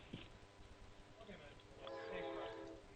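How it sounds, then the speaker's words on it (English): A train passes in an industrial district, faint and distant, with a horn-like tone rising in the last second beneath a talking voice. "we're down here in the industrial district, so you'll probably hear some trains behind me"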